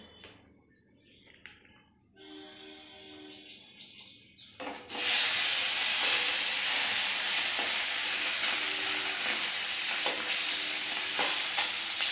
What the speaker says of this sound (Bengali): এবার মাছ ভাজাটা বসাবো এই যে মাছ ভাজা